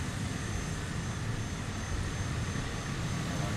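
A propeller bush plane in Microsoft Flight Simulator, on a trip over Iceland, runs with a steady, loud engine drone and rumble that holds even throughout as it takes off from the runway.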